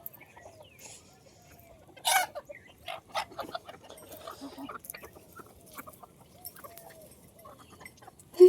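Backyard chickens kept at a house cluck in short, scattered bursts, with a few louder calls standing out against a quiet, fairly still background.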